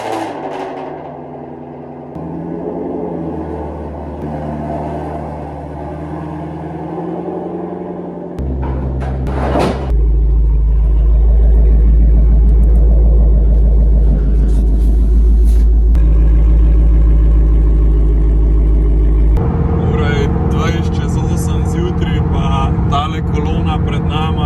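A car engine firing up after the car has been cleaned, checked and fuelled, then a deep steady rumble as it pulls away and drives, loud and close, with someone speaking over it.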